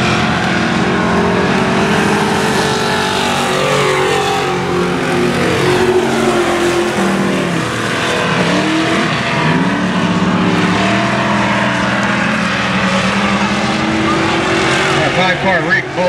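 Race cars roar around a track in a street stock race, a continuous loud engine drone with shifting pitch as cars pass, while an announcer talks over the noise throughout.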